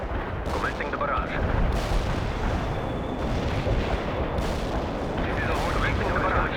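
Artillery barrage in the video game World in Conflict: a dense, continuous rumble of heavy booms and blasts rolls on steadily throughout, loud and close, with faint radio-style voices in the mix.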